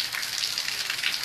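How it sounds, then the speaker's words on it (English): Rain falling in Florida, a steady broadband hiss of drops pattering on surfaces, fairly loud and continuous with no voices. "Yo, it started raining."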